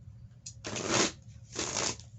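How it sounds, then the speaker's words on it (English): Standard Rider-Waite tarot cards being shuffled by hand in two close, brisk riffling bursts separated by a short pause, with no voices. "we'll go ahead and get these cards shuffled up and prepared"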